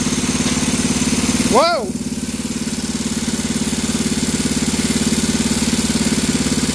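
A Bolens Husky 800 garden tractor engine runs at a steady close-up idle, dipping briefly with a rising-falling tone as it is shifted into first, then settling back to its even drone while a voice exclaims.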